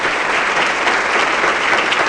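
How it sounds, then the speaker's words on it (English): An evening audience gives elected officials a round of applause, a loud, dense and unbroken burst of clapping from a crowded room. "Please give them a round of applause."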